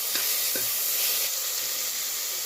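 Ginger garlic paste fries with sautéed onions for a soya bean curry, producing a dense, even, close hissing sizzle with a couple of faint stirring knocks near the start.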